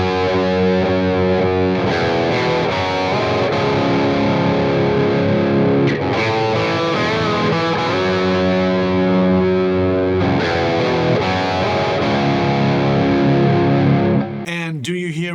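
A heavy, distorted electric guitar plays a riff, with thick, saturated chords ringing out in repeated phrases and brief gaps, and a short burst of other sound at the very end.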